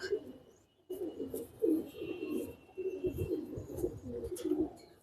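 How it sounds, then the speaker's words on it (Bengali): A male pigeon coos in low, throaty, rolling phrases, repeated almost continuously at close range. "এটা একটা নর কবুতর খুব সুন্দর কবুতর"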